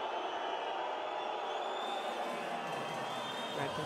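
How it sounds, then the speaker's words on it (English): A basketball crowd at a FIBA Europe Cup semi-final between JDA and Bilbao sends up a steady, loud roar of cheering that fills the arena without a break. "And the crowd really getting into it."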